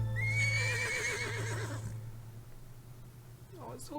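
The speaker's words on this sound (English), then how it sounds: "No, horse, leave. You're gonna get bombed." A horse neighs loudly in the video game Metal Gear Solid 3, a long wavering whinny that fades over about two seconds, with a steady game hum underneath and a brief higher cry near the end.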